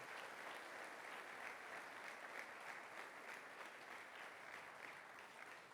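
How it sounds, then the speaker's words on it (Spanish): Church congregation applauding during a worship service, a steady uniform wash of many hands clapping continuously, heard faint and distant. "Dale fuerte ese aplauso al Señor."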